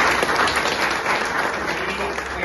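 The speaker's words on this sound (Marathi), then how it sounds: "या तरुण उद्योजकाकरता आणखीन टाळ्या पडल्या" An audience claps for a young entrepreneur at a business experience-sharing event, dense sustained applause filling the whole stretch, fairly close and loud.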